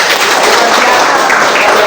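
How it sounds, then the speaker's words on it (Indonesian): Students in a Catholic religious education class clap together in a loud, close, continuous burst of applause that lasts under two seconds. "Tepuk tangan dulu."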